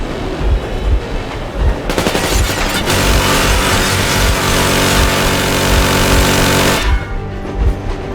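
Sustained rapid machine gun fire in the video game Metro Exodus, rattling continuously for several seconds, loud and close, with a mechanical drone underneath before it cuts off.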